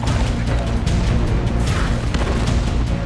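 A fire support strike in Battlefield 6 RedSec lands as a loud, sustained roar of deep booms and rumbling blasts that stays heavy and close for several seconds.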